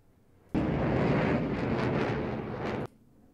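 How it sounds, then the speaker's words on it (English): An F-16 jet sound effect: a loud, grainy roar bursts in abruptly, holds steady for about two seconds with an explosion-like rumble, then cuts off sharply, with quiet before and after. "There's some jet sounds."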